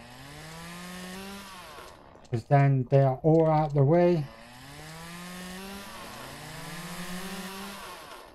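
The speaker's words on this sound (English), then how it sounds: "Hopefully you guys can hear the chainsaw." A chainsaw cuts through bushes in the video game Lumberjack's Dynasty, its engine droning and revving in rising and falling sweeps, briefly covered by someone speaking.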